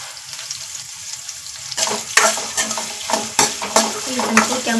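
Onions frying in a pan with a little salt until they brown: a soft background hiss, then from about two seconds louder crackling sizzle with repeated scraping stir strokes and light utensil clinks, close and without speech.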